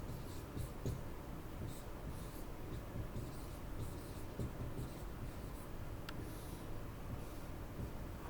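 Black marker writing on a board in a first-grade classroom, a steady scratchy squeak of strokes running continuously at close range, with faint room noise behind and no one talking.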